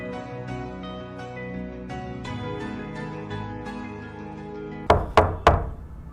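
Knocking on a wooden door comes as three sharp, loud raps near the end, following several seconds of steady background music with no knocking.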